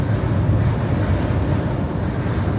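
Strong wind and rain buffet a car on the volcanic moss and rock landscape of Iceland, a dense, continuous low roar of gusts against the microphone.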